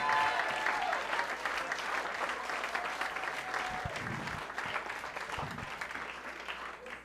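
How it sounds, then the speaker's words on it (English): Audience applause at a San Francisco comedy nightclub welcoming a comedian to the stage, a dense sustained wash of clapping that starts loud and slowly tapers off over about seven seconds, with no voices over it. "Give a big round of applause for Kurt Weitzmann."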